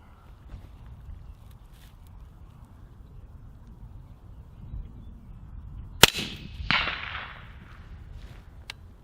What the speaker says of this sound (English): We're just going to put a few rounds into it here at 200 yards for the reticle testing